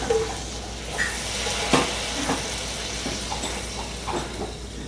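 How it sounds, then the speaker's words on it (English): White wine poured into a hot pan while cooking salmon florentine, giving a steady sizzle with scraping and stirring clatter as the bottom is deglazed, close and moderately loud throughout. "we're going to add some of that white wine"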